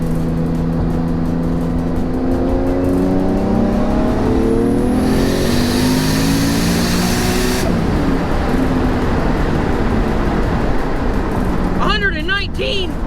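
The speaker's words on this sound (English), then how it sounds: "let's see how fast we can hit 100 miles an hour" A 2JZ-engined car pulls hard in third gear toward 100 mph, its engine note climbing steadily and loudly from inside the cabin before easing off, with wind and road roar and a voice briefly heard near the end.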